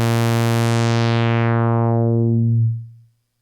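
A Moog synthesizer sounds one loud, sustained note through its ladder filter. The bright upper tones steadily darken as the filter closes, leaving a low hum that cuts off abruptly.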